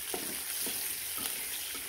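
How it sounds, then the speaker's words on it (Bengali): Chopped onions sizzle in hot oil left over from frying potatoes for a chicken dish, giving a steady close hiss broken by a few soft stirring scrapes. "ভাজা তেলের মধ্যে কিন্তু আমি কুচি কুচি করা এরকম গুল গুল করে কেটে রাখা পেঁয়াজ দিয়ে দিলাম"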